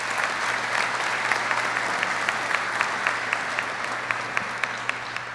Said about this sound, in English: Let's give the families and friends a round of applause,